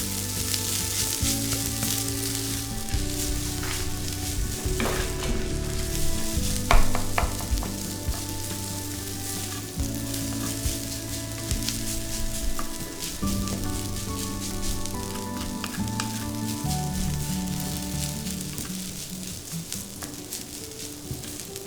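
Garlic fried rice stir-frying in a pan, a steady close sizzle with scraping stir strokes and occasional clinks running throughout, no voices.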